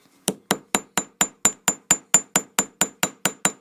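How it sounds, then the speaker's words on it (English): A hammer taps a metal earring blank through a layer of paper towel, fourteen crisp, evenly spaced blows at a steady rhythm, each a sharp close strike with a short ringing tail. "One thing I do like to do is not to hammer directly on the metal. I like to put a piece of paper towel down."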